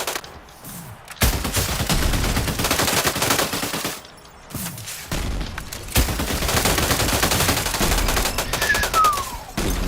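Bursts of AK rifle fire in a video game, rapid automatic volleys broken by brief pauses, loud and close, with a short rising whistle-like tone near the end.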